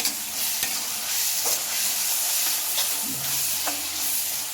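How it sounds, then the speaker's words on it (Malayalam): Onions sautéing in a pan for a chicken dish, a loud, steady sizzle with repeated scraping stirs of a spoon, close by and without talking. "അപ്പോൾ നമ്മളുടെ സവാള ഏതാണ്ട് നന്നായി വഴണ്ട് വന്നിട്ടുണ്ട് കേട്ടോ"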